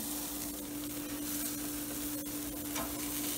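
Chicken wings sizzle on a hot grill, a soft, steady crackling hiss close by with a few faint clicks as they are turned, quiet throughout and no talk.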